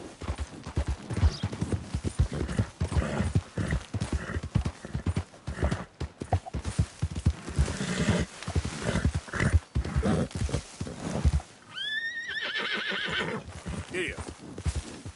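A horse gallops in the Red Dead Redemption 2 video game, its close, loud hoofbeats pounding fast and continuously, and a sharp whinny rises near the end.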